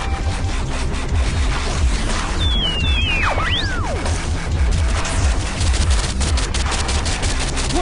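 Heavy, sustained video game gunfire, rapid shots and crashes rattling continuously for several seconds, with a brief whistling, descending sound effect cutting through midway; loud and unbroken.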